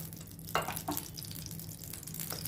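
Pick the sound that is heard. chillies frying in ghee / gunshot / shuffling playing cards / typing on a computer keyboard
chillies frying in ghee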